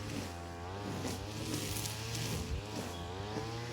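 Brush cutter run by a parks crew nearby, a continuous droning two-stroke engine whine with slight revving swells, moderately loud and steady, at an outdoor fishing spot.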